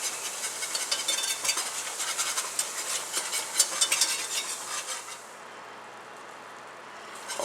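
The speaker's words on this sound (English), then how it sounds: "So I'm going to get all this flour mixed up with our oil" Flour being stirred into hot oil in a pan to make a roux from scratch, a steady scraping and soft sizzling close by that drops to a quieter hiss near the end, with no talking.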